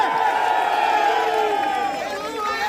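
A crowd cheers and shouts together in a loud, sustained roar that tapers slightly toward the end.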